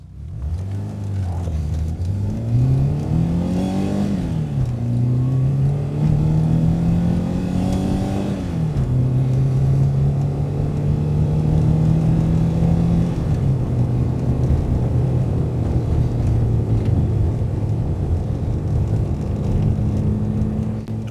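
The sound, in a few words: Renault 5 Alpine Turbo Gordini 1982 car driving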